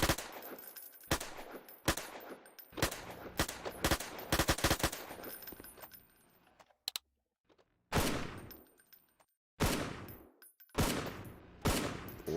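Video game gunfire from a shotgun-style weapon, with repeated loud blasts in irregular bursts, some fired rapidly in clusters and others separated by short silent gaps.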